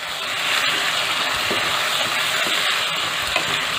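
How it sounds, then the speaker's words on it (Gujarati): Capsicum sabji is stirred in a pan after turmeric and salt go in. A continuous frying hiss runs throughout, with soft scraping stirs and an occasional tap of the utensil. "હવે બધું હલાવી લઈશું"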